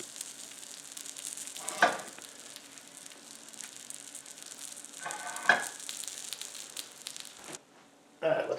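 A sandwich sizzles in a pan as the cheese melts, a steady, close frying hiss broken by a few louder scraping or clattering bursts, then a sudden quiet before the sizzle returns.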